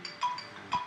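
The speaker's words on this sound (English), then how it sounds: "sorry about the phone call" A phone rings indoors during a website-building session, two short electronic tones about half a second apart, moderately loud over a quiet background with no talking.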